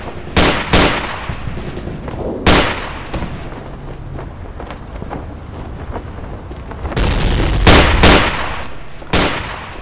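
Gunfire in the World War II shooter Day of Defeat: Source: sharp, loud single shots and short bursts at irregular intervals, several close and punchy, with a denser cluster of firing near the end over a steady background rumble.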